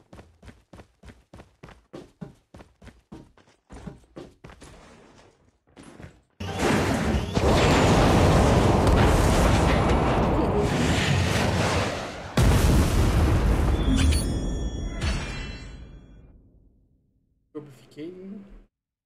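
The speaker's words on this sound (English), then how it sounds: "Olha uma bomba." Bombs going off in Call of Duty Mobile: a run of sharp rhythmic thuds gives way to a long, loud roaring blast, a second heavy burst, then a fading rumble and a brief last hit.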